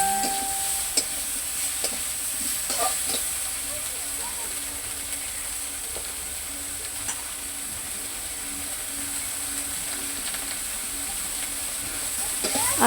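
Cauliflower and potatoes frying in hot oil, a steady soft sizzle and hiss with occasional faint stirring clicks throughout, with a voice at times.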